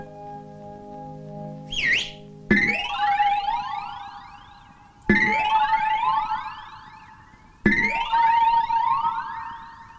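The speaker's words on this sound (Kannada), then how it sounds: "ಕೇಳಿಸ್ತಾ ಇದೆ ಸೈರನ್." Police siren wailing in rising and falling sweeps, restarting three times after a brief whistle-like tone, loud and close with no talk over it.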